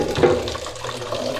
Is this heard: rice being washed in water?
yes